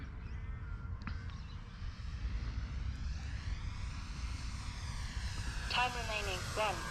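A Flightline Spitfire 1200mm radio-controlled model plane flies past with a rising and falling propeller drone, fairly distant under steady wind noise, while people talk nearby and a bird calls near the end.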